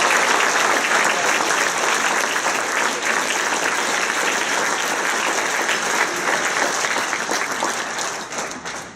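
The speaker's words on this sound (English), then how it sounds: "That deserves a round of applause." A retirement party audience for a high school boys varsity soccer coach breaks into sustained, loud applause, dense clapping that continues evenly for nine seconds and eases slightly at the end.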